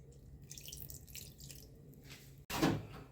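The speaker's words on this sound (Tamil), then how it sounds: "1/4 டம்ளர் அளவுக்கு தண்ணி ஊற்றிக்கணும்." Quiet faint trickles give way to a short, close splash of about a quarter tumbler of water poured into chicken and chilli powder near the end.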